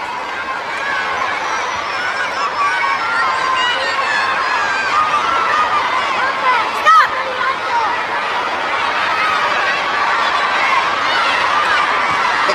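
A packed boxing arena crowd roars and murmurs in a steady, loud wash through the middle rounds of the Barrera vs Marquez fight, with scattered shouts and cheers rising out of the continuous din.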